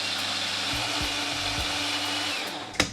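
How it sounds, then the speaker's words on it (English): Blender whirring steadily as it purées charred vegetables with pickle juice, a loud continuous motor drone with a few brief pitch shifts and a sharp knock near the end, no talking. "Now we're gonna blend this until nice and smooth."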